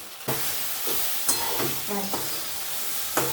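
Masala frying in a pan for an ilish fish-head and loti chorchori, stirred with a utensil that scrapes and clinks several times over a low steady sizzle.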